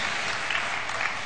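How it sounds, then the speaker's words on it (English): Steady applause from a conference audience at a patient safety presentation, dense even clapping throughout, moderately loud with no talking. "So a round of applause for Rebecca and Ian."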